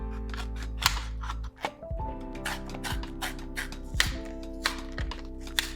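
OLFA utility knife slicing and scraping through secure product packaging, with sharp taps, clicks and plastic crinkles close up, after a brief low hum cuts off.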